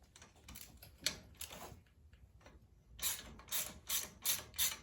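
Ratchet on an extension backing out an exhaust bolt on a 1980 Honda CB400 motorcycle in a garage, giving several quick bursts of rapid clicking, louder and denser in the second half.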